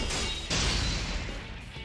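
A battle axe hits a greatsword's clasp in Persona 4 Arena Ultimax, a loud crashing metallic impact with a second harsh smash and a noisy, ringing tail, close and without speech.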